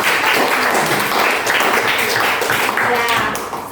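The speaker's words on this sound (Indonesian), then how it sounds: "hebat semua tepuk tangan ya" A classroom of students claps together in a loud, steady burst that fades slightly toward the end, with voices mixed into the clapping.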